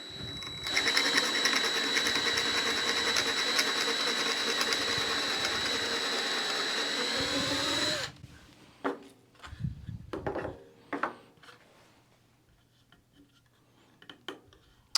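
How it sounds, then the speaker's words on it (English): Power drill boring a 1/4-inch hole through the center of a scrap-wood pumpkin, with a steady, loud, high whir for about eight seconds that then stops, followed by scattered close knocks and handling sounds on the wood. "we're going to drill that same 1/4-inch hole in the center of this pumpkin for the dowel"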